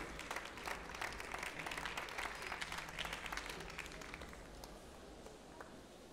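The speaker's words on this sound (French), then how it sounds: "Un applaudissement pour toute cette équipe." At a finger food cooking competition, an audience applauds the Kochkunst Biel-Seeland team, a moderately distant round of clapping that gradually tapers off.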